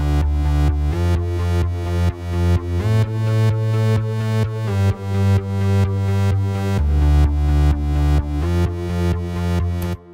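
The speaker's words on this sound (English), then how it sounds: "I'll just show you how the bass sounds like when it comes to the drop." A heavy synth sub bass pulses in a steady rhythm under a full progressive house mix at the drop, loud and sustained with repeated note changes throughout.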